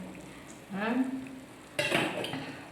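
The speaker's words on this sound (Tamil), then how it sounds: "இங்கே பாருங்க வறுத்திட்டு இருக்கேன் மீன்" Fish sizzles in a hot pan, with bursts of frying hiss and metallic clinks from a utensil against the pan, close by, while a voice speaks faintly.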